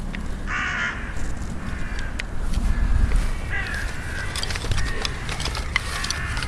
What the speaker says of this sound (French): c'est une pie